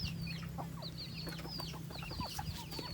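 Laying hens delivered to a rural Thai-Lao farm cluck and chatter steadily in a busy flock, several birds overlapping over a constant low background hum, with no talking.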